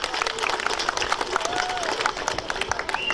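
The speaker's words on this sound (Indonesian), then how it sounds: "Tepuk tangan untuk kita semua." A crowd applauds at a village sports event, with scattered, uneven clapping that stays moderately loud and is mixed with voices and other crowd noise.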